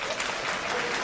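A stand-up comedy audience bursts into dense applause in response to a comedian's poll, a brief, full wash of many hands clapping at once.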